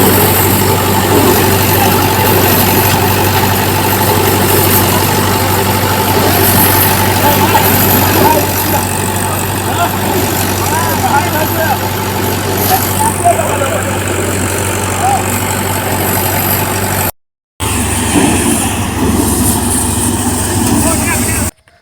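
A heavy tractor engine idles and rumbles steadily close by for a long stretch, with voices faintly underneath, then cuts briefly before resuming.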